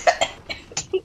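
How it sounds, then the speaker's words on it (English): A short burst of several close, rough coughs in quick succession, loud and alone without talk. "you done coughing?"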